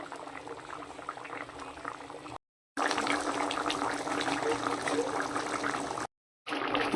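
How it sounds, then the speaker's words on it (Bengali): Hilsa fish curry with mustard and poppy seed bubbles at a steady boil, a close, continuous burbling broken by two brief silent gaps. "এই বন্ধুরা, ঝোলটা ফুটে গেছে, আমি মাছটা দিয়ে দিয়েছি।"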